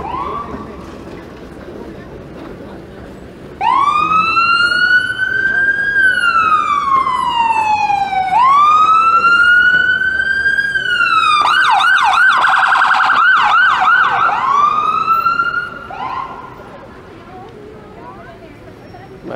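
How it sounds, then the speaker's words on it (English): Ambulance siren on a downtown Toronto street, wailing up and down loud and close for about twelve seconds, switching to a rapid yelp near the end before fading, over steady street noise. "Might as well follow the ambulance through."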